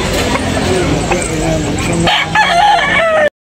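Roosters crow loudly at a busy chicken market in Tabunok, Talisay. Drawn-out calls overlap one another, with clucking, crowd babble and nearby voices underneath.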